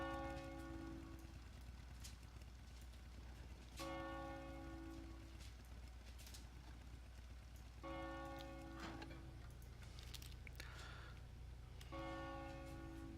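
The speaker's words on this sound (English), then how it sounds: "bells calling and tolling were very loud" Church bells toll in slow, evenly spaced strikes roughly every four seconds, each ringing out with a long resonant decay over a steady background hiss, with no voices.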